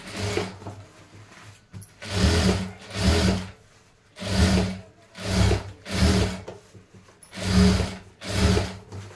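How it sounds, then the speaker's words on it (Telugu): Sewing machine stitching a topstitch seam along blouse fabric, running in close bursts of steady mechanical whirring and clatter separated by short pauses, about seven runs with no talk. "సో ఇప్పుడు వచ్చేసి ఇలా కుట్టుకున్న తర్వాత ఇట్లా పైనుంచి ఒక కుట్టు అనేది వేసేసేయండి"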